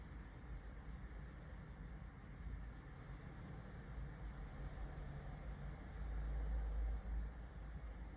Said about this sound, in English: So that's just normal traffic.